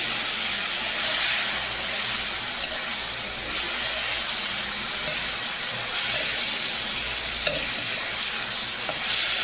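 Steady, loud sizzling of fish pieces frying in a cooked-down spice masala, a dense continuous hiss close by with occasional faint stirring clicks and no voices.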